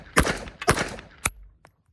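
A Sig P365 pistol with an integrated compensator fires 115 grain rounds: three sharp, loud reports about half a second apart, then a much fainter fourth, each cracking cleanly over otherwise quiet surroundings.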